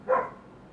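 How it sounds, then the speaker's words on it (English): A single short dog bark from a balcony, slightly distant and muffled, fading quickly into quiet room tone. "You can hear him barking on the balcony."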